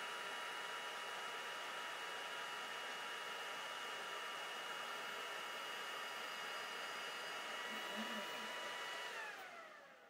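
An xTool D1 Pro 20W diode laser at 80% power cuts through two layers of cardboard, a steady, even whirring hiss of fan and air assist that holds for about nine seconds, then fades away.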